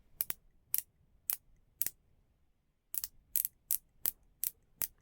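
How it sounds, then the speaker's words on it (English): A San Martin rifle scope turret clicks through its adjustment, about a dozen crisp, sharp clicks spaced unevenly, close and clear against near silence with a short pause midway. "It's a more crisp, clean click to it"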